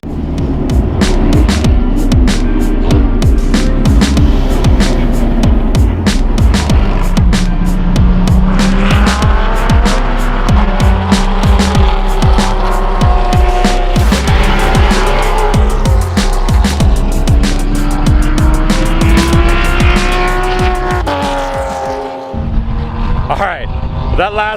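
Historic racing cars at a vintage grand prix roar loudly past in a continuous, dense engine din with rising and falling revs, close by and dominating throughout before dropping off near the end.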